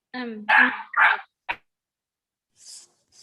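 A dog gives a few short, close, vocal yelps and barks, followed by a sharp knock and two faint, brief high sounds before quiet.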